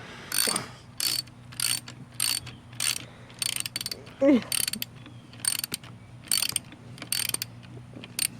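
A ratchet socket wrench clicks in repeated short bursts, close and loud, while working on a Ford Bronco front lift install in a garage, with a steady hum underneath.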